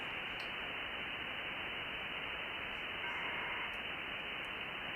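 A packet radio data signal decoded through a sound modem comes through as a dense, continuous hiss of band-limited noise, loud and unbroken for the whole stretch, with faint ticks above it.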